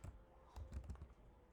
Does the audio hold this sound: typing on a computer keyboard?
yes